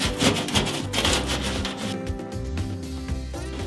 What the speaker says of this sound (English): I'm definitely doing a lot of scrubbing.